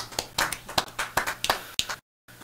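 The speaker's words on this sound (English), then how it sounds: "Britannia over there with her golf clap" Slow, deliberate golf clap from an audience member in a studio, about ten evenly spaced single claps close to the mic, stopping before a brief silence.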